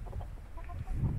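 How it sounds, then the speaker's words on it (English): Low, soft clucking from several chickens close by inside their coop in the morning, murmuring continuously without pause. "the chickens want to go outside"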